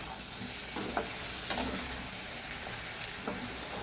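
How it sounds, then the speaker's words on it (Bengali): Sliced ridge gourd sautés with turmeric in a hot pan over raised heat, a steady low sizzle with a few scraping stir strokes at intervals, close and moderately loud, no voices. "এবার ঝিঙেগুলো দিলাম, দিয়ে এটাকেও আবার কষাবো"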